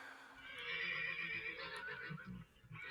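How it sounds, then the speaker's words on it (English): A horse whinnies loudly in a long, wavering neigh near a dirt yard with wagons, followed by a few low snorts and hoof sounds. "Do you hear a horse?"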